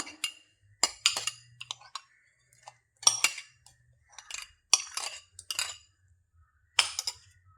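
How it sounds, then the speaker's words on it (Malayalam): A spoon taps and clinks against a bowl while mashing thick curd for pulissery, a Kerala sadya curry. Several sharp, close knocks come at irregular intervals with quiet gaps between them. "നല്ല കട്ട തൈരാണെന്ന് നമുക്ക് ഉടച്ച് അതിലേക്ക് ചേർത്ത് കൊടുക്കാം"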